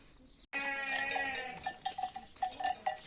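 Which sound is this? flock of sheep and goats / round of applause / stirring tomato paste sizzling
flock of sheep and goats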